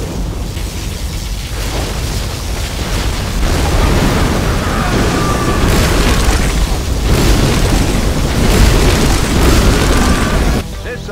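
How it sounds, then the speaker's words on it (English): Heavy booming blasts from a particle cannon in Command & Conquer: Generals roll one into another in a dense, loud barrage of sustained explosions, with brief pauses between waves. "Particle cannon activated."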